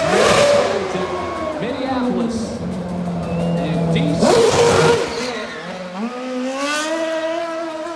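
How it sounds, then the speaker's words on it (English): A high-pitched Red Bull RB7 Formula 1 car engine screams and revs on a downtown Minneapolis street, dropping and climbing in pitch as it shifts up through gears, with a crowd or voices under it. "It's amazing, fans, to listen to him pop through the gears."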